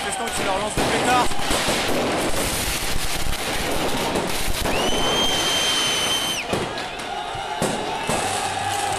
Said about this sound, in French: Les manifestants qui leur lancent des pétards.